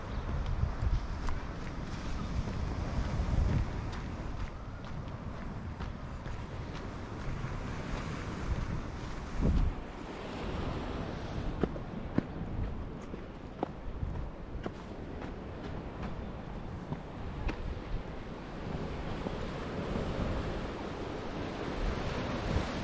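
Wind buffets the microphone while surf rolls and washes continuously at Jobson's Cove, a small limestone-framed beach cove in Bermuda, a steady roar with occasional stronger gusts.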